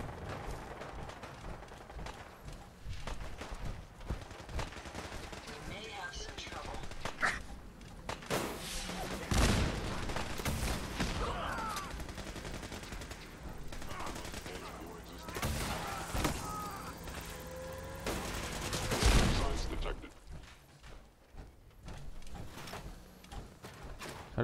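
Bursts of gunfire in Fallout 4, with rapid volleys and scattered single shots crackling over a busy game soundscape, rising and falling in intensity at moderate, fairly distant level throughout.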